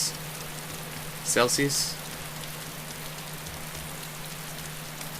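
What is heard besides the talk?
rain falling in the video game DayZ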